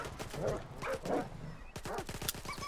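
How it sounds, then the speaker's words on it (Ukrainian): Dogs in Stalker 2 bark and yelp in several short, fairly close bursts, with game ambience running underneath. "Мене зараз хочуть жерти якісь собаки."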